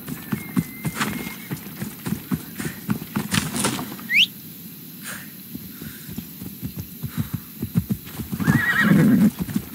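A horse in the game Assassin's Creed Odyssey whinnies once amid steady clip-clop hoofbeats, close and fairly loud, with a low throbbing hum underneath.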